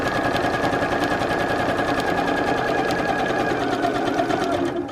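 A domestic sewing machine runs steadily for about five seconds, stitching a wide zigzag across layered quilting fabric scraps, its fast needle clatter close and loud before easing off at the end.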